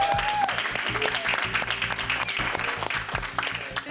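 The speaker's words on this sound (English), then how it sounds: "And let's also give our judging team a round of applause." Contestants on a health challenge competition show applaud their judging team with steady, moderately loud clapping over a rhythmic background music beat, and a brief voice is heard at the start.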